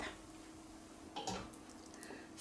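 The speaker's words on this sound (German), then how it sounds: "spüle den Fleisch nochmal mit kaltem Wasser ab" Cold tap water runs over meat being rinsed for Russian sauerkraut soup, a steady low splashing with brief clatters of the pot, close and without talk.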